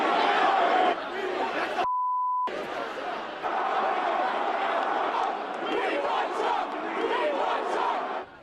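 Rowdy crowd clashing at a Trump rally, a dense roar of shouting voices sustained throughout, broken by a short electronic beep near the start.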